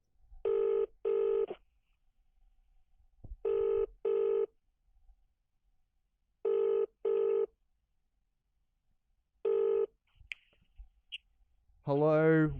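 A telephone rings through a handset during an outgoing call, sounding in paired bursts repeated four times at steady intervals, then a voice answers at the end.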